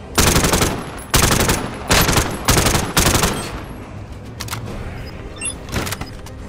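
Rapid bursts of video game gunfire aimed at explosives, five loud broadband volleys in quick succession, then fainter scattered shots trailing off, with no talking over them.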